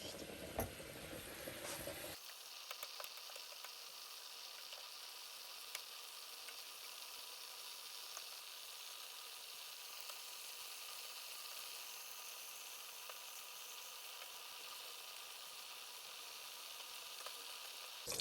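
Meat sizzles steadily in a hot pan, a constant crackling hiss that stays quiet and even throughout.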